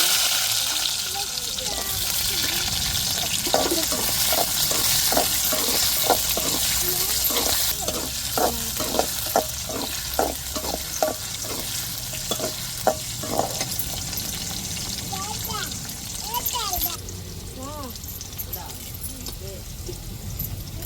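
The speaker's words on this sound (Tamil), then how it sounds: "எண்ணெய் சுடேறிட்டு கடுகுழுந்து போட்டாச்சு இப்போ வெங்காயம்" Mustard seeds and urad dal crackle in hot oil, then onions go in for a prawn curry, giving a steady loud sizzle with a dense run of sharp popping crackles, fading to softer frying with some utensil clinks.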